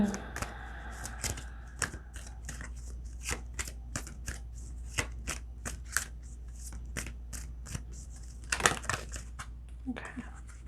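A deck of cards is shuffled close up in a run of quick, crisp riffles and snaps, with a brief flurry near the end, during a tarot-style energy reading.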